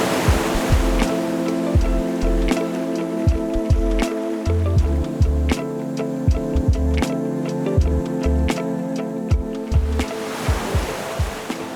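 Waves break again and again on the rocky shoreline of Baie Rouge beach in Saint Martin, a loud, steady surf wash with no voices, alongside repeated sharp ticking or knocking sounds.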